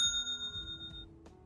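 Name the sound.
notification bell sound effect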